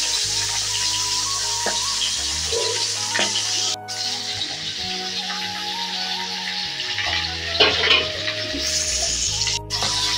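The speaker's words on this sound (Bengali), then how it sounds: "এখন মাছের মাথাটা ভেজে নিচ্ছি" Rohu fish head frying in hot mustard oil, a steady close sizzle running throughout, with occasional stirring scrapes and light clinks of a utensil against the pan.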